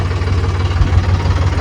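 A tractor engine idles near a field of compost manure in wet weather, a steady low rumbling drone with a regular throbbing pulse and no voices.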